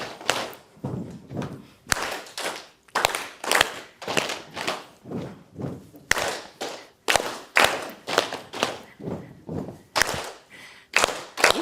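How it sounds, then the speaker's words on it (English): A group claps and stomps together in a repeating rhythmic sequence, with sharp claps and heavier thuds falling in regular patterned bursts, round after round, with short pauses between them. "This is a clapping sequence. It doesn't take much time, but we'll go clap, clap, lap, lap, stomp, stomp, clap."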